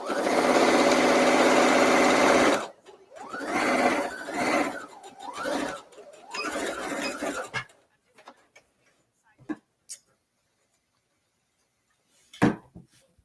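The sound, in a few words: sewing machine stitching pants made from a men's shirt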